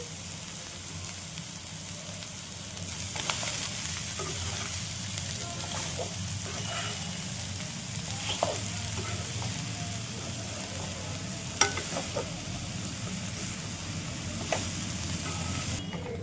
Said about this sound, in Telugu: ఉల్లిపాయని ఒకసారి కొంచెం మగ్గేంత వరకు వేయించుకున్నామండి